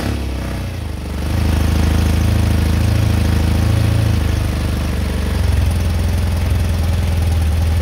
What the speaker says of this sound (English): Now, I'm going to start the bike up.